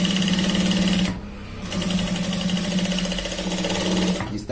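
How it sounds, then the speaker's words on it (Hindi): An electric sewing machine stitches a shirt seam at the shoulder in fast, steady, loud whirring runs, with a brief pause near the start and another stop at the end. "इसके अंदर की साइड की सिलाई लगानी है, एक बूंद की सिलाई लगानी है"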